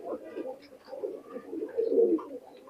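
Pakistani Teddy high-flyer pigeons coo in a loft, soft throaty rolling calls overlapping in a continuous murmur that swells briefly near the end.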